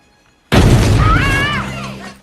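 A sudden loud boom bursts in from silence, a deep explosion in a heist film that rolls on with a dense rumbling tail before fading out, with a faint voice-like tone riding over the blast.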